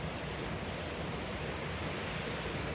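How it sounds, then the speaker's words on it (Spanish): Water roars steadily from two of three outlets releasing at full capacity at La Tajera reservoir, a dense, continuous rushing wash with no breaks, heard alone at moderate level. "hay 2 ahora mismo soltando agua a su máxima capacidad"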